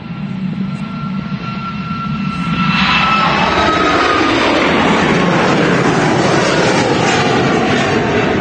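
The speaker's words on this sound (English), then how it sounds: "Oh, he's on the roll. So Ryanair, 737 MAX 8 going to Arrecife." A Ryanair Boeing 737 MAX 8 starts its takeoff roll at Manchester Airport, and a steady jet engine roar builds over about three seconds into a loud, sustained rumble with broadband noise close by.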